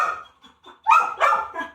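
A dog confined in a crate, giving a few soft whines and yips, then two loud, close barks in quick succession.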